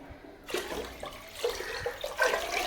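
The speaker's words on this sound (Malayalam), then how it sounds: "ഇനി ഒരു പാത്രം കൂടി വെള്ളം ഒഴിച്ചു കൊടുക്കുക" Water is poured from a vessel into a cooking pot while making ghee rice, a steady splashing pour starting after a brief pause and continuing close by with uneven bursts.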